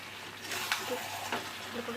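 Meat browning in a pan with salt, turmeric and spices gives a soft, steady sizzle up close, with a few faint scrapes of stirring.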